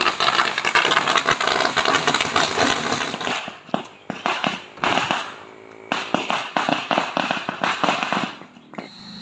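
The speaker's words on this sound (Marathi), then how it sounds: "हे बघा फटाक्याची माळ वगैरे लावले" A long string of firecrackers bursts in rapid, crackling pops during a Ganesh festival send-off procession, pausing briefly before more loud volleys rattle on, close and dense.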